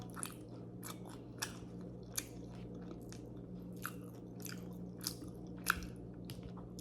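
Crunchy squash okoy fritters being chewed and eaten at a Filipino mukbang, with soft bites and crunches recurring steadily and up close over a faint background hum, and no talking.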